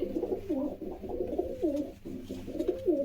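A released pair of pigeons, male and female, coo nearby in steady repeated rolling calls, moderately loud and alone.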